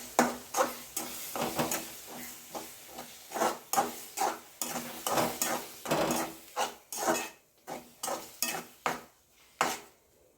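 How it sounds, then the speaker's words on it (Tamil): Four eggs stir-fried with drumstick leaves in a pan, heard as a quick series of scraping, clinking spatula strokes against the pan over a faint sizzle, close and moderately loud. "நாலு முட்டையும் ஊற்றி வச்சு அப்படியே வறுக்க வேண்டியது."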